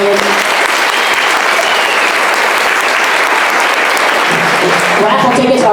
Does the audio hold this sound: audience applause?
yes